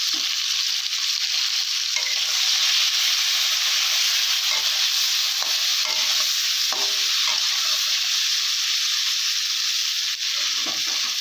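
Okra frying in oil in a wok, a loud continuous close sizzle with occasional stirring scrapes throughout.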